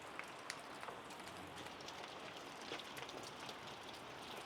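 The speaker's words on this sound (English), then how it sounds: "it's raining outside" Steady rain pours down outside a garage, a dense even hiss with scattered drop taps, continuous throughout and fairly loud with no talk.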